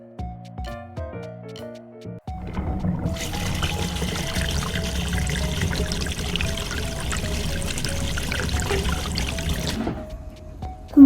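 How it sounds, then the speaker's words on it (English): Water gushes steadily from a portable mini washing machine as it drains, a loud continuous pour lasting several seconds, bracketed by quieter clicks and beeps. "I'm going to drain the water away."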